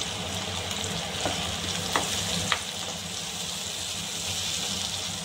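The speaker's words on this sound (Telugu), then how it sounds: "దీంతో సన్నగా పొడుగ్గా తరిగిన ఈ టమాటోలు వేసుకొని బాగా ఫ్రై చేసుకోవాలి ఫ్రెండ్స్" Thinly sliced tomatoes frying with mint in a pan, giving a steady soft sizzle with occasional sharp spatula taps and scrapes as they are stirred, close and moderately quiet.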